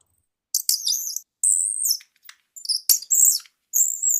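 Birds tweet in quick high-pitched phrases and warbles, several bursts separated by short pauses, crisp and near against an otherwise silent background.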